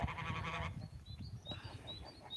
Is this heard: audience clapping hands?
no